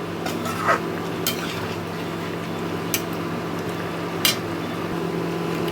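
Ghee and garam masala are stirred into soya curry in a pan, a steady low cooking hiss broken by a few light scrapes and taps of a utensil, close and moderate, no voices.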